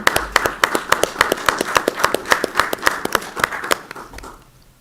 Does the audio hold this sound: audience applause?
yes